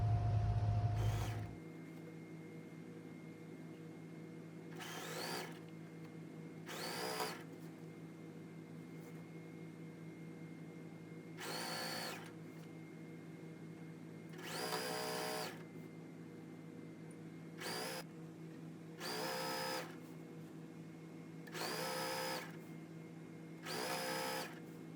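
Sewing machine stitching quilt pieces together in short bursts of rapid whirring stitches, separated by quiet pauses, fairly close and moderately loud, with no talking.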